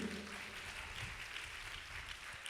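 A church congregation claps hands in praise during worship, a dense, steady wash of clapping that runs throughout at moderate level with no words spoken.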